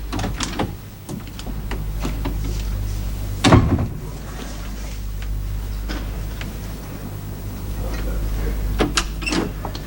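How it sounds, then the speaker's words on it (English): A front door opens as a visitor arrives at a house, with a single sharp knock or latch click midway standing out against a steady low room hum and faint background movement. "I think I hear the door now"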